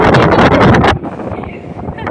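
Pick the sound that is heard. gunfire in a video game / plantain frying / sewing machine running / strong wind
strong wind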